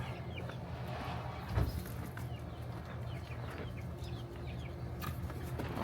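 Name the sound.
chickens clucking around a chicken coop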